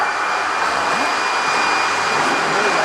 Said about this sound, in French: je passe l'aspirateur bien à la verticale, comme ceci, et je l'allume